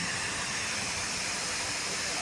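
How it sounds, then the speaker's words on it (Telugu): A water pump motor runs dry without drawing any water, giving a steady broad hiss and whir that holds at an even level throughout, with faint rumbling underneath. "మోటార్ ఆడుతుంది కానీ వాటర్ రావట్లేదు"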